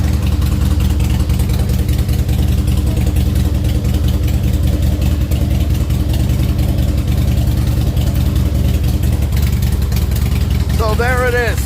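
A Harley-Davidson Softail motorcycle engine runs at a steady idle after a crank sensor replacement, loud and close throughout, with a short voice near the end.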